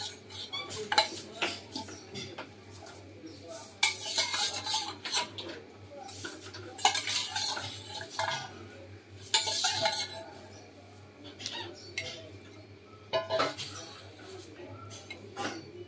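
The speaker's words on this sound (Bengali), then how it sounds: "ঝোলটা ফুটে উঠেছে, এবার আমরা এর মধ্যে দিয়ে দিচ্ছি মাছগুলো" Pieces of fish slipping into a pot of boiling curry broth, with scattered clinks of metal utensils against the pan, soft rubbing and stirring scrapes, and a low steady simmering hum beneath, all close by.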